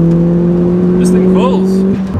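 A Mitsubishi Colt 1.5 Turbo holds a steady, loud droning engine note from inside the cabin, ending as the revs drop, while a voice speaks over it.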